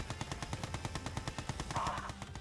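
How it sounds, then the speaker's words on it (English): Gatling cannon firing in the real-time strategy game Mental Omega, a rapid, steady stream of sharp bursts at close range running through the whole stretch with no voices. "This night frame walks into a Gatling cannon, and it will be killed."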